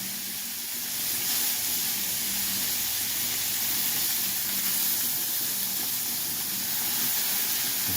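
Onions sizzle steadily on a Blackstone flat-top griddle, a broad even hiss that holds for the whole stretch at moderate level, with no talk over it.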